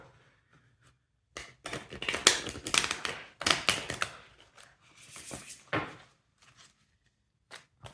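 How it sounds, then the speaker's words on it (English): A tarot card deck is shuffled by hand in bursts of crisp riffling and tapping, loud and close, separated by brief quiet gaps. "Just going to shuffle good in order to refresh the energy of the deck."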